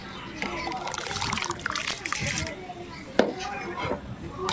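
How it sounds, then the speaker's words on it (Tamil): Washed, soaked rice tipped into a pot of hot water in a home kitchen, giving close splashing and sloshing with a sharp splash partway through, with a voice speaking over it. "அரிசியை நல்லா கழுவிட்டு தண்ணியில் ஆட் பண்ணிக்கலாம்"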